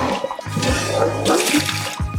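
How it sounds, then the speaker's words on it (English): Water from a custard-baking pan, used for crème brûlée, is poured out into a sink, a close splashing gush with gurgles and brief drips over a couple of seconds. "Just trying to empty out the water."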